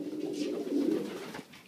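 Racing pigeons coo in a loft, a steady low rolling call from several birds close by, continuous for about a second and a half before fading.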